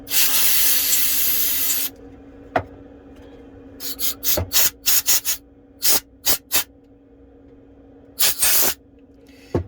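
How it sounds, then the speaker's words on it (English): Compressed air blasts onto an iPhone 12 during a repair: one long, loud hissing blow, then a series of short, sharp puffs in quick bursts, close up. "I'm going to give a nice compressed air blow."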